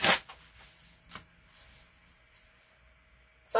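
Paper torn by hand along printed columns of numbers, a short ripping burst at the start, a brief tear near one second, softer rustling, then another sharp rip at the end, close and alone.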